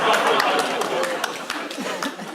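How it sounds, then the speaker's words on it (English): A television studio audience bursts into brief applause mixed with a few chuckles, a dense, crackling wash of clapping that fades slightly toward the end. "That got applause."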